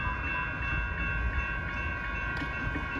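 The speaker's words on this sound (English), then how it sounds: "approaching at 4:53 is local train 125 from San Jose to San Francisco" A Caltrain local, train 125 from San Jose to San Francisco, approaches a station with a steady, moderately distant rumble of rolling rail cars and a faint sustained tonal hum over it.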